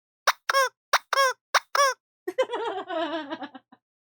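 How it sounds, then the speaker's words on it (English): A rubber chicken squeaky toy squeezed five times in quick succession with sharp, close squeaks, followed by a longer, wavering honking squawk that trails off. "I have a rubber chicken and a little clown, squeaky clown."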